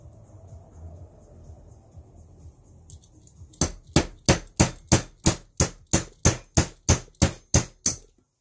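A socket is hammered to drive a bearing onto the shaft of a VW MK1 Rabbit or Golf A/C blower motor. After a quiet stretch come about a dozen sharp, evenly spaced metallic strikes, close and loud.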